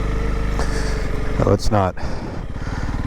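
2022 Honda CRF300L Rally motorcycle, its rear wheel spinning in place, the single-cylinder engine revving loud and close with a choppy, pulsing note that rises briefly, while a rider speaks over it.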